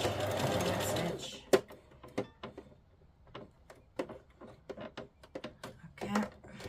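A domestic sewing machine back stitches through fabric scraps in short bursts of rapid mechanical clatter separated by pauses, close up, after a brief louder whirr at the start.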